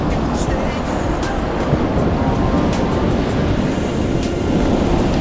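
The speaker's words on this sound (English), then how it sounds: "Hunter and I have posted up on the beach close enough to where the water can hit our toes" Ocean waves wash onto the beach at Cape Lookout, a constant close surf roar and hiss with occasional wind gusts buffeting the microphone, steady and loud throughout.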